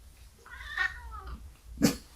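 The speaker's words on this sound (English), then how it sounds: "Sorry, my cat's sitting with me." A porch cat, a female, meows close by: one drawn-out meow followed by a shorter, sharper cry, with no talking over it.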